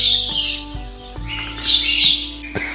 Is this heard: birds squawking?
yes